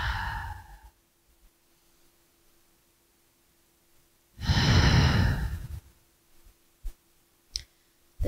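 Breathing during gentle arm-raising exercises after a mastectomy: a short exhale at the start, then a strong, close breath lasting about a second and a half, followed by a few faint clicks and puffs in an otherwise quiet room.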